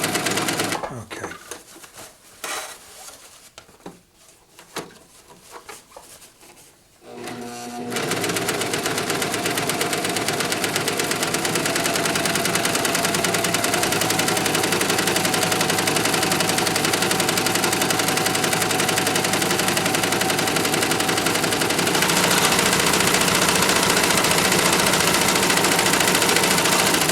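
A Singer Professional 5 serger sewing a cover stitch: after a few seconds of scattered clicks and handling noises, it settles into a loud, continuous rapid mechanical whir and chatter that runs steadily for about twenty seconds, close by.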